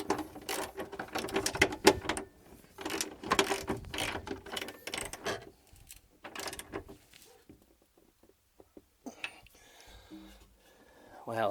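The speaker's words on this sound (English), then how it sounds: "when holding the bolt underneath the nut, go ahead and just tighten this bolt down until it's tight" Ratchet wrench clicking rapidly in uneven bursts while tightening a bolt and nut on a Ford Mustang Fox Body upper torque box reinforcement, with quieter handling noises and pauses near the end.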